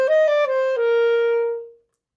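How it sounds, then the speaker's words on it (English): A clarinet plays a short phrase in its high register, a few quick notes leading into one held tone that fades out, clear and close with no voices. "Here's an example of the high register of the clarinet"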